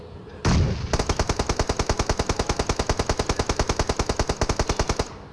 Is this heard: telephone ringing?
no